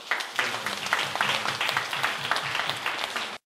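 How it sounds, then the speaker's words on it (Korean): A church congregation applauds together during a Sunday service, a dense, steady wash of many hands clapping at close range for several seconds before cutting off abruptly. "다시 한번 우리 서로를 격려하면서 박수 한번 할까요?"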